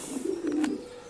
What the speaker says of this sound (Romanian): E un porumbel